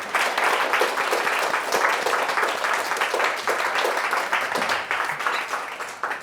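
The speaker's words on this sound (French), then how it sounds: "On peut les applaudir." Steady audience applause at a French-language event, many hands clapping densely and evenly throughout with no pauses, fairly close and full.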